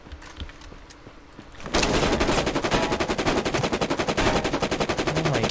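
Rapid automatic gunfire in a video game erupts after a quiet start, a loud continuous burst of closely spaced shots that keeps rattling to the end with no talk over it.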